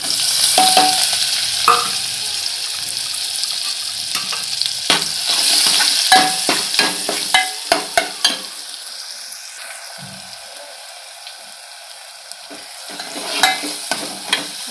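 A ground spice paste frying in oil with cumin and mustard seeds for a chandan batva leafy-green curry: close, steady sizzle broken by a run of sharp scraping stirs against the pan, with no voices.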